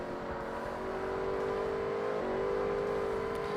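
A race car engine in Forza Motorsport holds a high, steady drone that shifts pitch briefly partway through, continuous and prominent with no talking over it.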